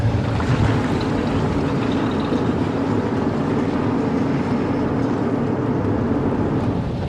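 Deep, steady rumble of a big American car's high-torque engine, loud and close, droning like a barge without letup and with no voices.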